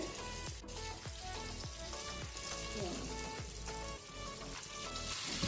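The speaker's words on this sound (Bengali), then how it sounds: "পেঁয়াজটা আমি কিছুক্ষণ ধরে ফ্রাই করে নিলাম" Onions fry on a medium flame in oil, a dense continuous sizzle with crackling bursts throughout, close and steady.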